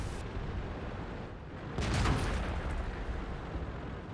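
A tank cannon fires in World of Tanks during a match, an M48A1 Patton battling an IS-3, giving one loud broad boom about midway, set against a constant rumbling battle background with no talk.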